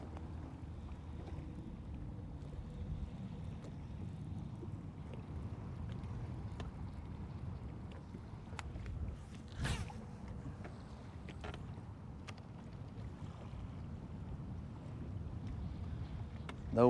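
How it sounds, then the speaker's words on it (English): Wind gusting across Lake Guntersville from a fishing boat gives a steady low rumble and buffeting against the microphone, with water lapping and a few faint knocks. "It is getting a little breezier, guys"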